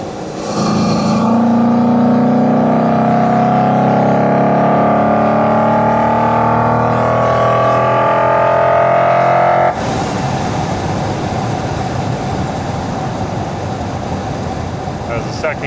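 Chevrolet 5.3L V8 fitted with a cold air intake, revving hard through a full-throttle second-gear pull, a loud rising drone that climbs for about nine seconds, then cuts to a lower, rougher rumble.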